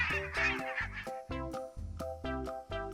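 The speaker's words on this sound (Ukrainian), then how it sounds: "Тому це характерний звук для обох дорослих гусей." Adult geese give a run of loud, nasal honking calls, roughly eight harsh honks in an uneven rhythm, close by with no other sound around them.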